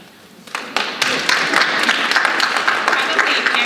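Audience clapping at a National Honor Society induction and awards ceremony, starting sparse and building within a second into steady, dense applause from a crowd seated nearby.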